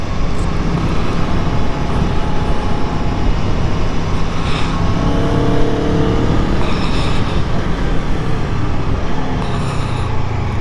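Aprilia Tuono V4 1100 motorcycle climbing uphill toward a ski area, a continuous loud engine roar mixed with heavy wind rush, steady for the whole stretch with slight pitch changes as it pulls.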